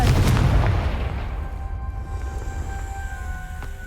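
Confringo blasting curse from Hogwarts Legacy, a loud booming explosion that bursts at once, then rumbles and decays across the next few seconds, with a faint ringing tail and no voices.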